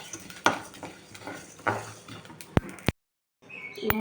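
Cumin and other whole spices dry-roasting in a pan, stirred in scraping, clattering strokes with sharp metallic knocks of a spoon on the pan, then a brief silence before more stirring.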